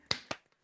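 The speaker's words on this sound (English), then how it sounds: "I'm going to unmute just to clap." Two sharp, close hand claps from a single listener at an online poetry reading, spaced about a fifth of a second apart, each decaying quickly into near silence.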